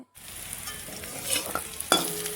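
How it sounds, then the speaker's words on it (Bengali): Garlic frying in a pan with potato and onion, giving a soft steady sizzle. A spoon scrapes and stirs through it with a couple of sharper clinks near the end. "এখন রসুনটা দিয়ে ভালো করে ভেজে নিব"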